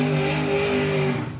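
A supercharged 363 cubic inch Ford Model Y drag racing car roars loudly through a burnout, its steady, harsh engine note held briefly before it begins to fade.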